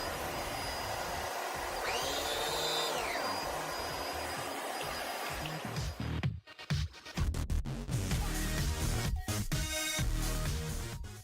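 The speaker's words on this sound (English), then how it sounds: "I like to use my vacuum cleaner to get the dry soil off the hardwoods" A vacuum cleaner on a hardwood floor, on its hardwood setting without the beater bar, runs with a steady, loud motor drone, then cuts briefly and restarts with bumps and clatter, close by.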